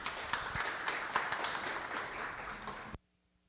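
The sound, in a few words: audience applause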